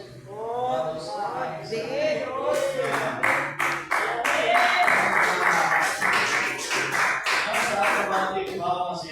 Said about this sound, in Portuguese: bater palmas, irmãos